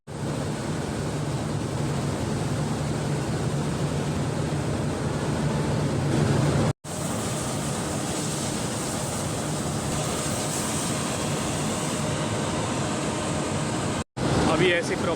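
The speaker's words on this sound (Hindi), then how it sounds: "अभी एसी प्रॉपर काम कर रहा है।" Steady broadband whoosh of a panel air conditioner running after its capacitor was replaced, a continuous even hum and airflow rush with two very brief dropouts, close and constant throughout.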